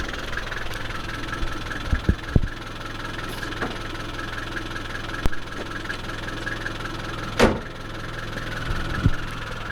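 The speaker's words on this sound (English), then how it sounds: "we're going to shut off the engine this time because the engines are noisy" A 1993 Nissan diesel camper engine idles with a steady, even rumble and faint vibration, heard up close. A few brief knocks and clicks sound over it, and no one speaks.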